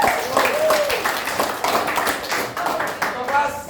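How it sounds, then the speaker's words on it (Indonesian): A high school class in Indonesia claps hands together at the end of a lesson, a brief steady patter of many hands with some voices mixed in. "Tepuk tangan."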